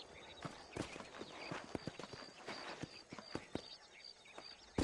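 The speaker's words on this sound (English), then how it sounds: "These are fine horses." Horse hooves clip-clop in Red Dead Redemption 2, a quiet, steady trotting rhythm of many soft hoof strikes heard on their own without talk.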